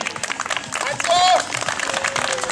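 An audience at a strongman sports festival bursts into applause, dense clapping swelling and holding under a voice on a microphone, with a few cheers mixed in.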